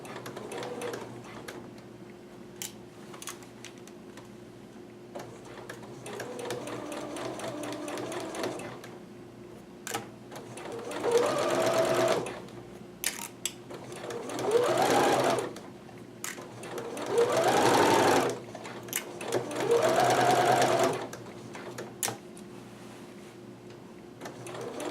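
A sewing machine runs in several bursts, stitching fabric for a kimono around a sharp corner, with steady mechanical whirring and quiet gaps between runs.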